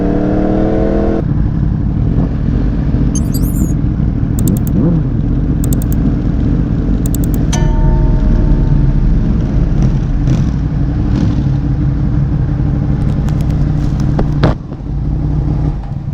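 A Honda CBR1000RR-R Fireblade motorcycle runs nearby with a loud, steady engine drone, joined by brief clicks and clatter.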